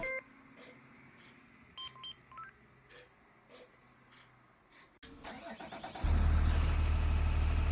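A school bus engine cranks and fires up after a series of dashboard beeps and chimes, then settles into a loud, close, steady idle.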